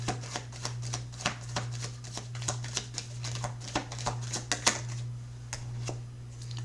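Tarot cards shuffled and drawn in a string of crisp, irregular riffling flicks and slaps, close and fairly soft, over a steady low hum.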